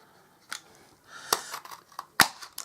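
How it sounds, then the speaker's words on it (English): Scissors cutting holes in a cardboard box, a few sharp separate snips and crunches spaced irregularly, close and fairly quiet with no talk. "I'm just going to cut 2 holes out."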